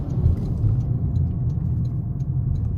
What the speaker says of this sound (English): we're gonna put it into the normal drive mode and give it a pull here